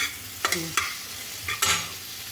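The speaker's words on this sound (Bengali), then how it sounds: "একটু নুন দিয়ে ভালো করে এগুলো নেড়ে নিই" Sliced capsicum and onion stirred in a frying pan with salt, a soft background sizzle broken by a few distinct scraping strokes of the spatula.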